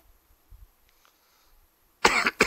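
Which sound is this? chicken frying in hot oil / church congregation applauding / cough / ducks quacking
cough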